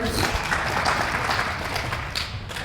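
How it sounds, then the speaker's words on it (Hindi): Hearty applause from an audience at a site safety motivation program, a dense wash of clapping, moderately close and sustained for a couple of seconds. "इनके लिए जोरदार तालियां एक बार हो जाए।"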